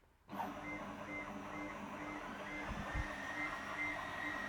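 AlgoLaser Alpha 22W laser engraver working on a 90 mm cork coaster, a steady mechanical whir with faint repeating high chirps and a couple of low thumps, starting abruptly from quiet.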